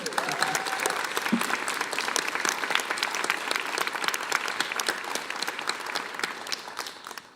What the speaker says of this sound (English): let's do individual rounds of applause for first Hugh